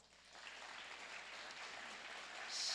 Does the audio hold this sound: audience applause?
yes